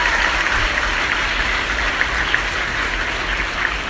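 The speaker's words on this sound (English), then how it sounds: "Please give a big round of applause to your parents for giving you such discipline." Steady, dense applause from an audience at a talk on positive attitude, clapping for their parents; the sound is continuous and even throughout, with no voices over it.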